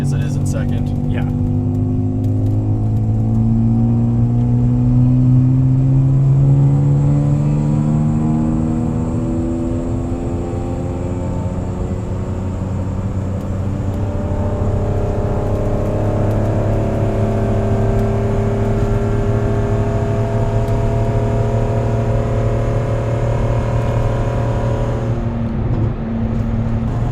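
An automatic-transmission car held manually in second gear accelerates, its engine note rising and shifting in a steady, loud, close drone, with people talking over it.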